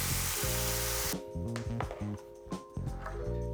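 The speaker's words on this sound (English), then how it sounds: "Now you want to make sure it's hot before we put the salmon in to sear it" Salmon sears in hot olive oil in a pan, a loud broadband sizzle that cuts down abruptly, then continues more quietly with scattered crackles and clatters of handling against a steady tonal hum.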